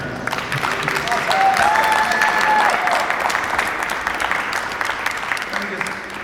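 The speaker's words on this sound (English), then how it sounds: "I think you need a round of applause for this answer." Sustained applause from an audience at a talk with actor Dean Cain at the Zürich Game Show 2019 fills the clip, with a few whistles rising over the clapping early on before it gradually eases.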